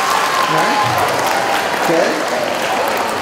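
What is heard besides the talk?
middle school students clapping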